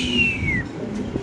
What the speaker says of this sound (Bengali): খুব সুন্দর এক জোড়া শ্যাডেল রেসার কবুতর আপনি দেখতে পাচ্ছেন